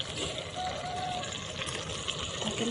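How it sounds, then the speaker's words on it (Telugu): Water poured into a pot of chicken curry as it cooks, a steady soft splashing and trickle heard close by, continuous for a few seconds with faint background hiss. "నీళ్ళు వేసుకుందామండి"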